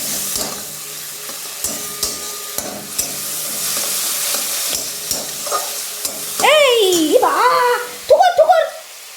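Vegetables and spices fry in a pan with a continuous sizzle, and a spatula stirs and taps throughout. Near the end, voices, including a child's, break in over the cooking.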